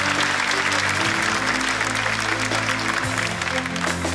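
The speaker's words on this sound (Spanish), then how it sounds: "Un fuerte aplauso para el amigo, por favor" A comedy show audience bursts into strong, continuous applause, a thick roar of clapping with a musical backing and some voices mixed in beneath it.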